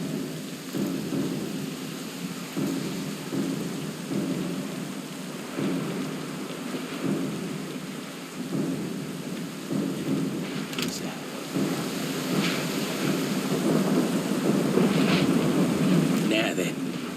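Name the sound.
thunderstorm with rain in Pillars of Eternity 2 video game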